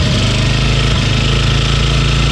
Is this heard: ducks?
no